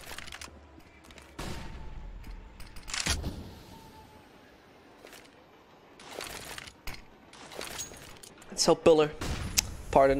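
Gunfire in a Counter-Strike match on the Train map, sharp bursts and single shots of varied loudness cutting through a live commentator's speech.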